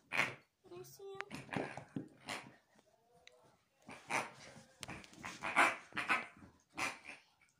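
A dog barks and whimpers in short, uneven bursts close by, with people talking over the sounds throughout.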